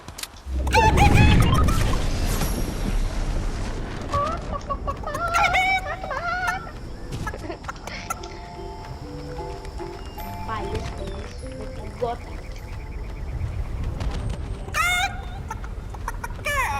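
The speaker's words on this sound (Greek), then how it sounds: "Κοτά, έλα μαζί μου." Chickens clucking in the Fortnite video game, a black hen among white ones, with short repeated clucks and squawks mixed with game effects and footsteps, under continuous talk by a player.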